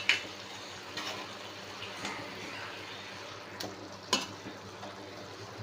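Coconut rice being stirred in a pot, a soft steady scraping and stirring texture with a few sharper clinks against the pot near the start and around the four-second mark, close by and fairly quiet.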